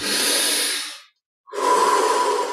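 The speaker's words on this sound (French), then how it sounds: "on ouvre la poitrine, et on prend quelques respirations profondes" Deep breaths drawn during a chest-opening yoga exercise: one long, airy breath of rushing air, a brief silent pause, then another breath, close and fairly loud with no talking.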